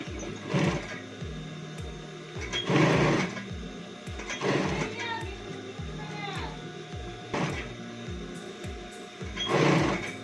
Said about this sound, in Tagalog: Paikot po lalagyan ng bias para hindi po matanggal ang mga sinulid.